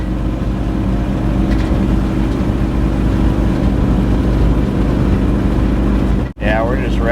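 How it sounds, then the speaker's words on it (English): Engine of a 1962 Cadillac held at a steady high idle or rev, a loud continuous droning rumble up close, cutting out sharply for a moment near the end. "Yeah, we're just revving the dang thing."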